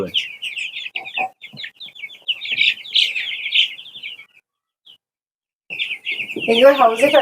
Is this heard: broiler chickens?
yes